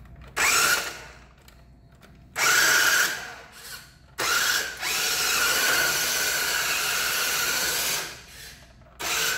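Small electric motor of a red and black 1/10 scale Jada Mustang GT-R RC car whining in loud bursts as it drives, with short pauses between runs and a longer sustained stretch in the middle.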